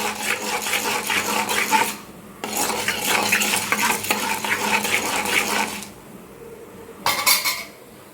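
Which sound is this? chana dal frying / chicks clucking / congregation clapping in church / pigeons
chana dal frying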